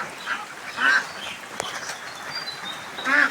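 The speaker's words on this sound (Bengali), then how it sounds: "ওই যে হাঁসের খামার।" Ducks at a farm quack in short nasal bursts, a few separate calls spread out over steady background hiss, moderately close.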